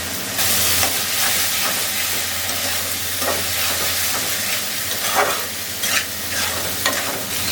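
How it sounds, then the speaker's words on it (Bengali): Soaked polao rice sizzles in hot oil and spice masala while being stirred, with a continuous loud frying hiss and periodic spatula scrapes, close up, no voices. "এটাকে এখন এটার মধ্যে দিয়ে কষিয়ে নেব"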